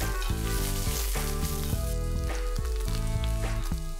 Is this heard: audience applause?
no